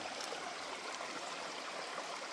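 A stream beside a hiking trail on the Long Trail runs at a water source with a steady, dense rush and gurgle, heard close and alone at moderate level.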